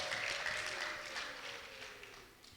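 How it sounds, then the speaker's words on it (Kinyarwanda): A church congregation bursts into faint, distant applause mixed with high ululation, a dense continuous wash of clapping that slowly fades. "Mumuha amashyi n'impundu nyinshi"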